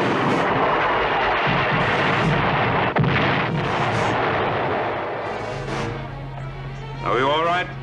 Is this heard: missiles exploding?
yes